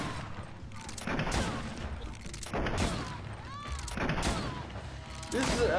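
Gunfire in the video game Greedfall, several bursts of shots in an uneven rhythm with mechanical clicks and sweeping effects between them, loud and close.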